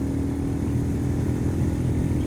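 A Royal Enfield Classic 350 motorcycle pulls hard on the highway after a downshift, a steady loud engine drone with wind rush and no voice over it.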